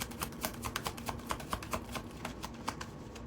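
Tarot cards are shuffled by hand, a quick run of light, evenly spaced riffling clicks up close and fairly quiet.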